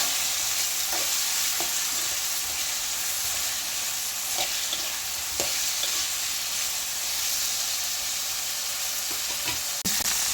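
Ivy gourd sautéing in a pan with a little salt, a steady broadband sizzle under repeated scraping stirs spaced a second or two apart, close and fairly loud throughout.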